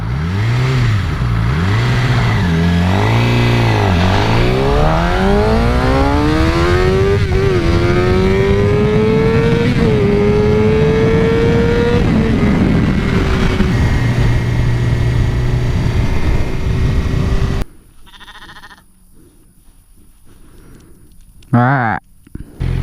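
A Suzuki GSX-R 600 L3 pulls away, then accelerates hard through several gears, its engine pitch climbing and dropping at each shift before settling into a steady high cruise. Loud wind follows, then a quieter stretch with talk.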